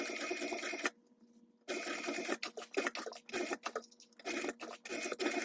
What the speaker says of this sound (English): you're going to go ahead and sew the 3 sides here closed at a 3/8 inch seam allowance